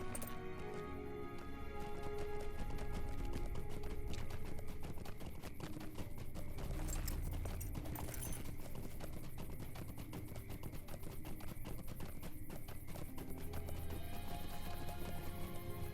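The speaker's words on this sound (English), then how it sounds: "These poor horses, they probably hate me, man." Horse hooves gallop in the fantasy online game LOTRO, a steady, rapid clip-clop rhythm running throughout under a music and ambience bed.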